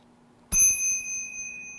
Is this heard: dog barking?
no